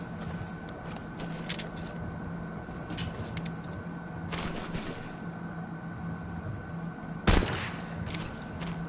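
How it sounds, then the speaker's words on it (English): Distant gunfire in Metal Gear Solid V, scattered bursts and shots over a steady low ambient hum, with one sharper, louder report near the end and no speech. "We're hearing gunfire."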